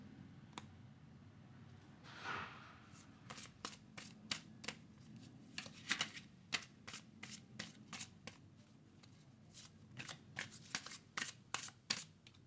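A deck of Lord Shiva oracle cards is shuffled by hand, giving a quick run of crisp, snappy card flicks and riffles. It is close and fairly quiet, with one brief rustle near the start and no talking.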